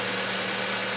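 Audi A4 engine idling with a new 320A Mechman alternator fitted: a steady, even broadband drone with a low tonal hum, continuous and fairly close, no talk.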